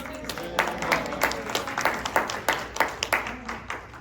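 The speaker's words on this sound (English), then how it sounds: "Raise your hand, stand up, applause." Audience at an annual association meeting bursts into scattered hand clapping, a steady patter of individual claps with a few louder peaks, moderately close and without speech over it.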